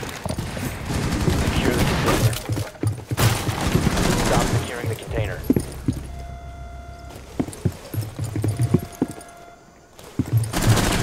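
Gunfire in the Rainbow Six Siege video game, rapid bursts of shots and sharp cracks scattered across the clip with clattering debris and footsteps, mid-distance, mixed with game sounds.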